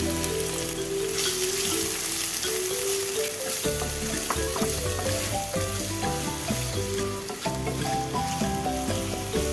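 Chopped onions sauté in a pan for Goan pulao, a continuous dense sizzle running beneath loud background music throughout.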